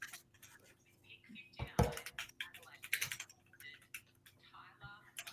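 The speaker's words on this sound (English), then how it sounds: "You need to type it in." Quick bursts of keystrokes on a computer keyboard as a name is typed in, close and fairly loud, with a few voices talking and reacting around the clatter.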